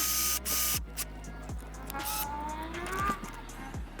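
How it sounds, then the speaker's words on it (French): A drill bores holes through a licence plate and a German plate holder, giving a close, continuous motor whine with shifting pitch and rhythmic mechanical clicks, with no talking. "Donc on va mettre la plaque sur le support et on va percer."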